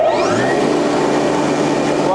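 A Ruwac industrial vacuum runs with a steady, loud motor whine and airflow roar, close by and continuous over a short stretch.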